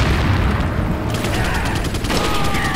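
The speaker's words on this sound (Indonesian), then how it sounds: "Oh, ada yang lempar granat." A grenade blast in the Resident Evil 4 zombie game booms loudly and is followed by a dense rattle of gunfire and crackling debris that fills the whole stretch without pause.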